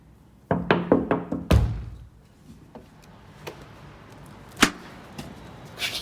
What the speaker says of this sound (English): They just tend to bang their beaks on the window.